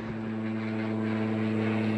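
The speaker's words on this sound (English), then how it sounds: "Airplane!" A steady droning engine hum, like a propeller plane passing overhead, stays even and moderately loud throughout without voices.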